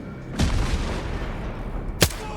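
Two sharp single gunshots ring out in the game S.T.A.L.K.E.R. 2, about one and a half seconds apart, each a loud booming crack over a low ambient rumble.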